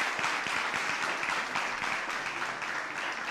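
Applause from an audience at a launch event, heard as fairly faint, continuous clapping with a soft crowd wash and scattered individual claps standing out.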